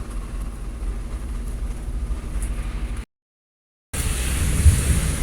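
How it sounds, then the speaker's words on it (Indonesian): Steady rain hisses and patters close by, with a low rumble underneath; the sound drops out briefly, then returns louder. "Hujan dari pagi nih"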